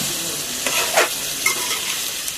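A spoon stirs salted eggplant curry in a sizzling pan, with a few distinct scraping strokes over a constant close frying hiss.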